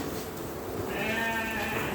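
A ewe bleats once in a drawn-out, wavering call partway through, close by and clear against a quiet farm background.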